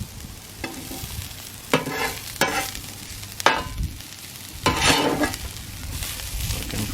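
Onions fry on a two-burner Blackstone griddle in a steady close sizzle, broken by several sharp scraping stirs of a spatula at irregular intervals.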